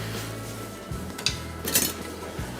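A metal spoon scraping tomato sauce from a pan into a bowl, giving a few brief clinks and scrapes against the cookware, close and fairly quiet with no talk.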